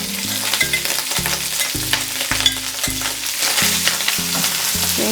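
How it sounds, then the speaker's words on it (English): Beef pieces go into hot oil and sizzle loudly and steadily with crackling spits, while light background music plays throughout. "Our oil is hot. I'm gonna put our meat in."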